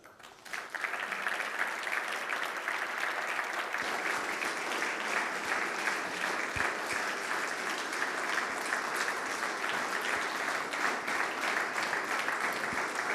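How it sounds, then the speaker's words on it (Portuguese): An indoor audience at an honorary award ceremony applauds: dense, steady clapping from many hands that swells quickly and holds strong throughout, with no talk over it. "Um forte aplauso a Alexandre Alves Costa."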